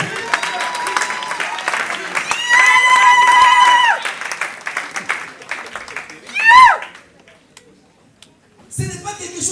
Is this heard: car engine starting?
no